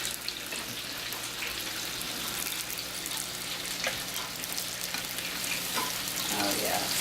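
Onions frying in oil in a pan, a steady close sizzle and crackle running throughout with small pops and stirring clatter, no talking.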